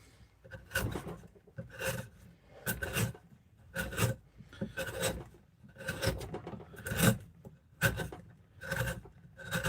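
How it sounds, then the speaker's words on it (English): A carving gouge pushed by hand across the inside of a big willow bowl near the heartwood, making rhythmic rasping scrapes, about ten close strokes each roughly a second long, with brief pauses between them. "Cleaning it up a little bit, using the gouge as a push tool."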